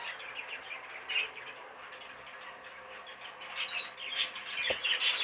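Young budgerigars and Fife canaries give soft, scattered chirps and tweets in quiet bursts. They grow a bit busier toward the end, over faint room hiss with no voices.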